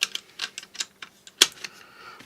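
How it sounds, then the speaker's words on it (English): AR-15 magazine loader pressing rounds into a magazine, a quick series of sharp, close metallic clicks and ticks in an uneven rhythm, with one louder snap partway through. "Just move it once, drop a round in. Move it once, drop a round in."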